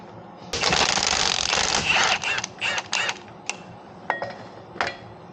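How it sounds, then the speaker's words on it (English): Crane swung over during the stripping of a dozer, producing a metallic rattling and clanking rush, then a run of separate clanks and knocks at irregular intervals, close by. "Bring the crane over."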